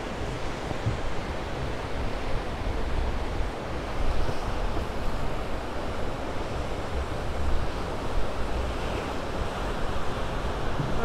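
Steady ocean surf rolls continuously under strong gusting wind buffeting the microphone on a beach in Ghana, with no voices.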